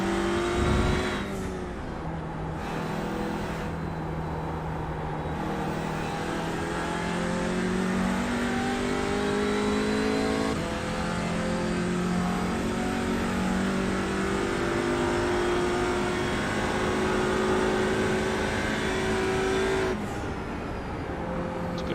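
Race car engine in the iRacing simulator, revving hard under throttle for a long continuous stretch, the pitch climbing and dropping through gear changes, loud and close throughout with no talk.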